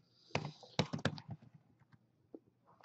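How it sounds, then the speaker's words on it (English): Typing on a computer keyboard: a few quick bursts of sharp, close clicks with short pauses between them, then sparser, fainter taps trailing off. "and then I start typing"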